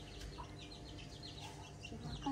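Chickens clucking and chirping close by as they are fed rice outside a house, soft repeated calls scattered throughout, with people talking in the background.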